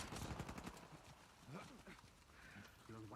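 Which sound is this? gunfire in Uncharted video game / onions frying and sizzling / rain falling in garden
gunfire in Uncharted video game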